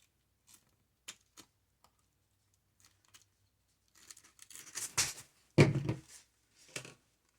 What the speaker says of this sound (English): I'm just going to go ahead and cut off the tape.